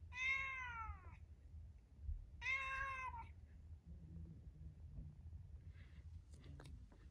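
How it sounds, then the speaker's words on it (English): Synthesized cat meows from a smart speaker's voice assistant: two clear, loud meows in quick succession, followed by quiet background noise. "Hey Google, make a cat noise."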